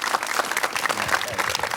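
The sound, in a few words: audience applause for the speaker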